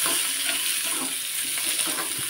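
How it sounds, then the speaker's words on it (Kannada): Chopped onions frying in hot oil in a pan, a steady close sizzle with light stirring scrapes, no talk. "ಈರುಳ್ಳಿ ಈಗ ಎಣ್ಣೆಯಲ್ಲಿ ಫ್ರೈ ಆಗಲಿ"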